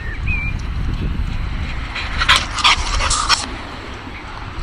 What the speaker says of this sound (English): I'm at a park and I just got attacked by a dog.